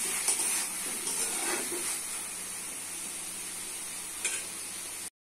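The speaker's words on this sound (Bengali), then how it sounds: "টমেটো কষা হয়ে গেছে, দিচ্ছি আলু। আলুকে ভালো করে কষতে হবে।" Potatoes sauté in a pan with cooked-down tomatoes for a khesari dal dish, a steady close sizzle with soft stirring scrapes and a brief spatula knock near the end.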